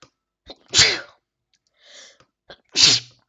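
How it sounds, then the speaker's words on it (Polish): Two loud, sharp sneezes from one person, a second apart, with a softer breathy sound between them. "Przepraszam, że tak kicham"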